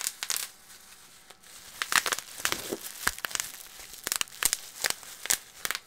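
Bubble wrap crinkles and crackles as it is handled and squeezed, a run of sharp, close crinkling bursts with brief pauses between them, with no voice.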